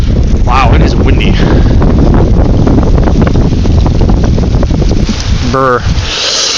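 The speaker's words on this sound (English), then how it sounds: "Wow, it is windy." Strong gusting wind buffets the microphone outdoors in a garden after a storm, a loud continuous roar throughout with a brief voice near the end.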